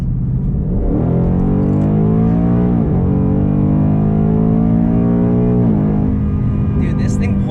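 A 2019 Ford Mustang GT with the track pack accelerates hard, its V8 engine droning loud and close with rising pitch that dips briefly at two gear shifts before climbing again.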